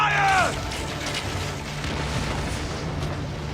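Booming cannon fire from an Assassin's Creed Origins battle: a shouted voice at the start, then a loud, sustained rumble of blasts filling the rest.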